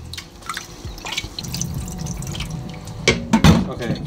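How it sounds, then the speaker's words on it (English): Two cups of rice being rinsed with water in a bowl at a kitchen, with sloshing, dripping and splashing that grows louder near the end, close by. "So I've put 2 cups of rice in a bowl and now I'm washing it."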